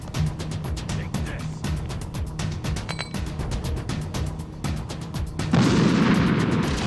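Grenade blasts in the video game Metal Gear Solid: The Twin Snakes, set against a steady run of sharp gunfire-like pops, with a heavier, louder rumbling burst near the end.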